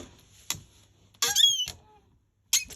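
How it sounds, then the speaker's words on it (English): A MISTI stamping tool gives a high squeak as it is pressed, alongside a few sharp clicks and taps, close and quiet with no talking. "My MISTI squeaks, I'm afraid."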